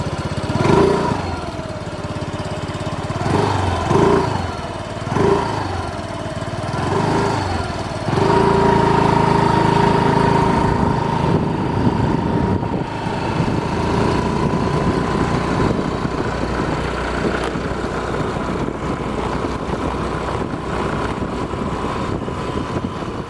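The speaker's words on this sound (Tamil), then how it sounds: "என்னடா வண்டி இது ஸ்டார்ட் ஆக மாட்டேங்குது" A motor vehicle engine, apparently a two-wheeler, tries to start on a rural grove path but fails: several short cranking bursts are followed by a rough, sustained engine drone, loud and close.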